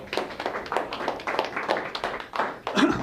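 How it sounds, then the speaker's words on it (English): A seminar audience gives a round of applause, scattered hands clapping in uneven bursts, fairly close and modest in volume, thinning out toward the end. "Big round of applause."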